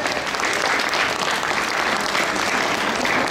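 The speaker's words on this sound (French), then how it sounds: "on peut applaudir s'il vous plaît" A crowd at a 2021 cosplay event applauds a Star Trek fan club, a thick continuous wash of clapping that stays even and loud from start to finish.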